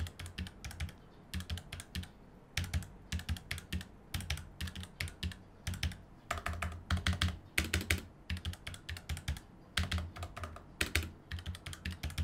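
Steady bursts of typing on a Tecware low-profile keyboard with red switches, soft close clacks in rapid runs with brief gaps.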